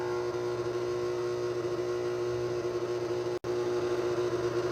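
KitchenAid stand mixer with meat grinder attachment running steadily, a loud, continuous motor whine and hum with a brief cutout near the end before resuming.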